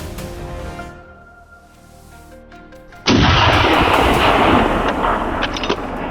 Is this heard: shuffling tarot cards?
no